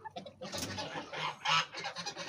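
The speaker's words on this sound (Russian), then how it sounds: "Петушок." A backyard rooster, heavy at around a kilo, lets out a series of close, raspy clucking and squawking calls in uneven bursts, with no voices during the calls.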